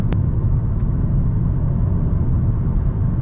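A turbocharged right-hand-drive manual sedan engine rumbles steadily and loudly from inside the cabin as it accelerates, a continuous low drone with no talk over it.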